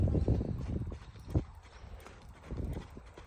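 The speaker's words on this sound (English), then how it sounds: "show us a little bit of trot on the other side" A compact thoroughbred horse trots in an arena, its hooves thudding in a quick, fairly even rhythm close by, loud at first, easing off, then building again toward the end.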